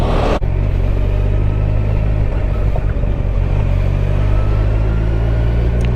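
Kawasaki Ninja 1000SX motorcycle riding slowly through filtering traffic at about 17 mph, a loud low steady engine hum and road rumble heard from the rider's position, mixed with wind noise, with no talking.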